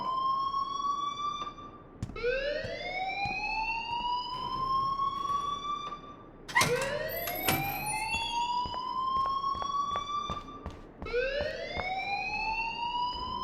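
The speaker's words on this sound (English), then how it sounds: "please turn off that alarm since that's your job" An alarm in the video game Life Is Strange wails in repeated rising sweeps, each climbing tone lasting a couple of seconds before restarting, loud and steady with overlapping siren-like layers and no voices.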